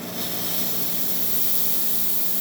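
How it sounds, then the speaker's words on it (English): Steam wand on a La Pavoni lever espresso machine letting out a strong, steady hiss, loud and continuous from start to finish with no talking. "And then let's test the steam."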